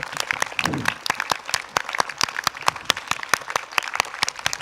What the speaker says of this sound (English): Louder applause for our singers, ladies and gentlemen.